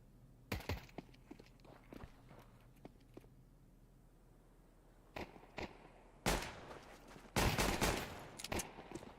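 USP pistol shots ring out in a Counter-Strike match, sharp irregular cracks, some faint and some close and loud, in clustered bursts over light footsteps.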